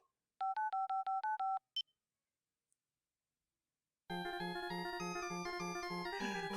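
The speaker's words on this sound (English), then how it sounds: "Try dialing the number that he gives us." A cell phone number dialed in the video game Apollo Justice: Ace Attorney sounds as a quick run of about seven clean, evenly spaced keypad tones, a pause of silence, then a steady, pulsing game tune.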